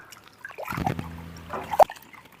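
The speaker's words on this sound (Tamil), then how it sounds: "அரிசி கலஞ்சிக்கலாம்" Idli rice and chana dal are rinsed by hand in water while preparing thattu vadai, producing short close sloshing swirls and trickles, with a sharper splash near the end.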